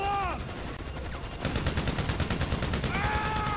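Rapid automatic gunfire in Grand Theft Auto 5, likely from a military minigun, rattles in a loud continuous burst through the second half, with voices talking over the earlier part.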